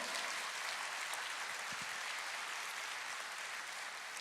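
A church congregation claps during a sermon, producing a soft, steady wash of applause that sounds somewhat distant and continues evenly for a few seconds.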